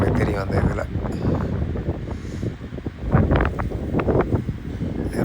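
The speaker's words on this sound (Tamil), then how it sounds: "ரொம்ப காற்று" Strong, gusty wind blows outdoors on a deer hunt in New Zealand, buffeting the microphone with uneven rushing bursts that swell and fade.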